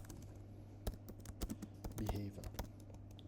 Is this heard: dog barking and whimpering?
no